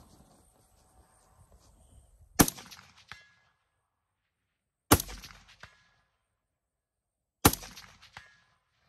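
Three rifle shots fired about two and a half seconds apart at 200 yards, each a sharp crack followed a moment later by a faint metallic ring from a distant steel target.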